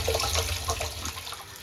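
Water pours through a float valve into a pig water tank, a close, steady gurgling stream that softens slightly toward the end.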